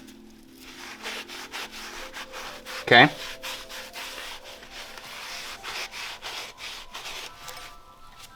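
A rag rubs spray cleaner off the flywheel of a Nissan 370Z or Infiniti G37 during a clutch install, making steady close scrubbing strokes with one brief, sharper burst near the start. A single short spoken word comes early.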